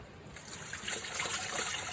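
Water poured from a small container washes a stream macroinvertebrate sample out of a sieve bucket, making a soft, close, continuous trickle and splash that grows slightly over two seconds.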